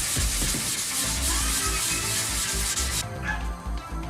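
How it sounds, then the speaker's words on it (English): Steady wet sanding of a repaired car bumper by hand with 180-grit sandpaper, a continuous close rasping rub with no talk, easing slightly near the end. "It sands real easy, so now I'll wet sand it with, start with 180"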